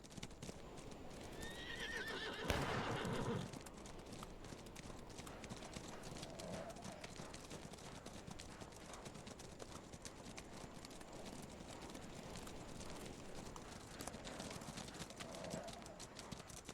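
Horses in a War of Rights cavalry drill neigh and whinny, with a loud whinny early on, while hooves clip-clop steadily throughout at moderate distance, and voices talk faintly under the scene.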